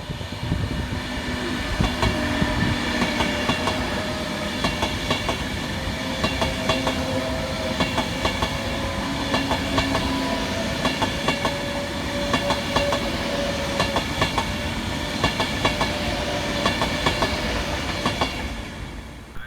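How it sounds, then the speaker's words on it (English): A Class 390 electric train runs through Stafford station, a steady loud rumble with rhythmic clickety-clack of wheels over rail joints lasting the whole pass, heard alone without voices. "Next up to pass through the station will be 390-104."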